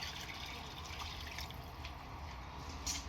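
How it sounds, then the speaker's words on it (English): Water is poured into a pot of Lebanese white bean and lamb stew, a soft, steady trickle and splash, faint and continuous, with a few small drips near the end. "once you top it up with water"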